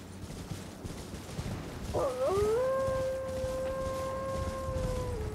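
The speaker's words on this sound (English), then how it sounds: "Yeah, you all howl away." Wolves howling in Elden Ring: after a low ambient rumble, several long rising-then-level howls overlap and sustain for a few seconds, fairly loud over the background, with no talking.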